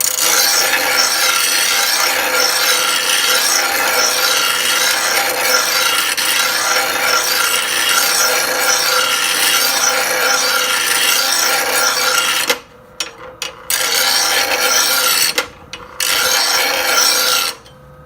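A stone is being set on a Bradley blade grinder, giving a loud, continuous abrasive rasp that runs steadily for about twelve seconds, then breaks into short stop-and-start bursts with brief silences between them.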